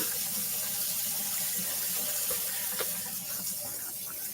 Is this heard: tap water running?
yes